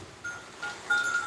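A goat bleats a few times in short bursts over faint background noise, fairly close by.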